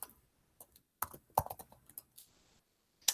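Typing a password on a computer keyboard, irregular clusters of close, crisp key clicks with short pauses between bursts and no talking.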